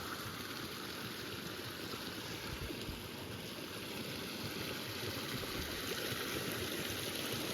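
Steady flowing stream water in the Blaeberry valley, a continuous broad rushing wash that stays even and close throughout with no voices.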